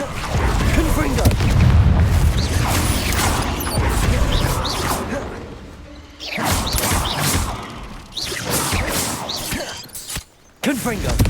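Confringo blasting-spell explosions in Hogwarts Legacy boom and crash repeatedly amid combat whooshes and thuds, with loud bursts separated by short gaps.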